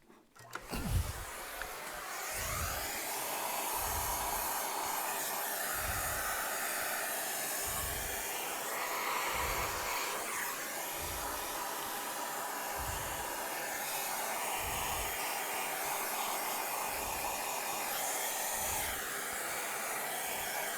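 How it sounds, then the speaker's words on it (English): A vacuum cleaner sucks up dust from an opened-up device, producing a loud, steady whooshing hiss with soft low thumps repeating roughly every second and a half, no voices. "Let me vacuum some more."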